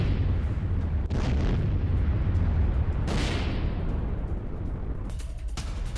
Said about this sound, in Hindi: एक साथ कई धमाके किए गए, सब कुछ हिला दिया।